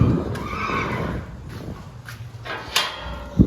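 A mare at a stable in Rajkot lets out a loud, close whinny at the start, followed by a few soft hoof clops and short knocks.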